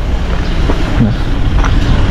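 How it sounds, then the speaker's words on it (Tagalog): Strong wind buffets the microphone at a work site, a loud, constant rumbling roar with gusty surges and no other sounds. "dito talagang lakas ng hangin"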